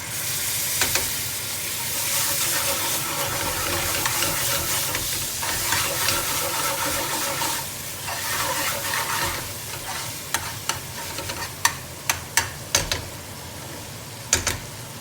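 Base gravy poured into a hot pan for chicken tikka chilli, a loud continuous sizzling hiss up close, easing later into sharp scraping and stirring clicks.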